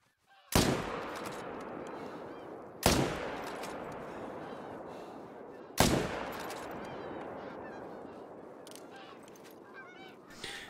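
Three loud rifle shots in a hunting video game during a driven hunt, spaced a few seconds apart, each with a sharp crack and a long rumbling echo decaying behind it.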